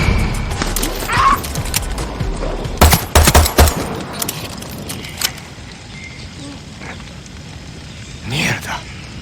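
Sniper gunfire in the video game Far Cry 6: a few sharp, loud shot cracks in quick clusters over game ambience, with people talking throughout.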